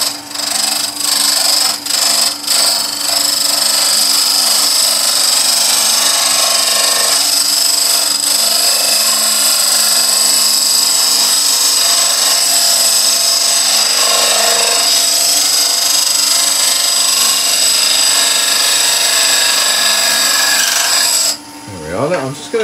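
A skew chisel shaping a spinning piece of wood on a lathe, a loud steady scraping hiss over the lathe's hum that runs throughout and cuts off near the end.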